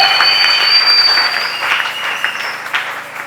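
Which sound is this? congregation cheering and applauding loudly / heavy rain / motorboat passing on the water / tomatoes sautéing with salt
congregation cheering and applauding loudly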